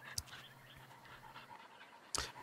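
A dog panting in The Artful Escape video game: soft, breathy, rhythmic huffs close by, with a couple of brief sharper bursts, no talking.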